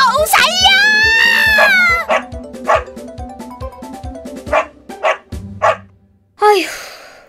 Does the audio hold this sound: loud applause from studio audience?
no